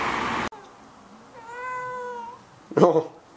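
A single drawn-out cat meow with a rising then falling pitch, fairly close, after a brief burst of noise and before a short rustling thump.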